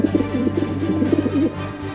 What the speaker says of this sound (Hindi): अरे वाह, चिंटू के घर में से कबूतर की आवाज आ रही है।